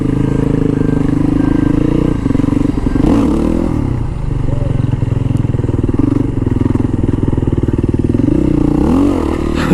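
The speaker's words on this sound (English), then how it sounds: "it's fun doing wheelies for people when they love it" A motorcycle engine roars loud and close throughout while the rider pulls a wheelie, with a sustained high-revving drone and rising swells of throttle.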